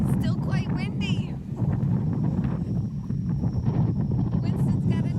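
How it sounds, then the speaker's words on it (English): Steady strong wind from Hurricane Idalia, a Category 1 storm, buffets the microphone aboard a sailboat with a constant low rumble and roar throughout, with a brief voice early on. "Still quite windy."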